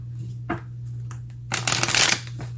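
Tarot cards being shuffled by hand, a soft tap followed by a brief riffle, then a louder, fuller flurry of shuffling near the end over a low steady hum.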